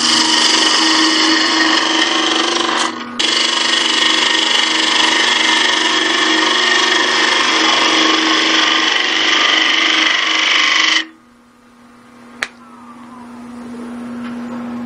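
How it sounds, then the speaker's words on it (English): A wood lathe spins loud and steady as a 1/2 inch spindle gouge turns a large bead on a twig vase, a constant whirring hum that stops abruptly, leaving a quiet lingering tone and one sharp tick. "I'm gonna start off the monstrous bead there with a 1/2 inch spindle gouge"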